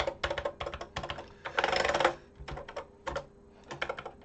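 Keys are pressed on a vintage TI-99 computer keyboard, giving bursts of quick plastic clicks in uneven clusters with short pauses and a rapid flurry in the middle, close and clear with no talking.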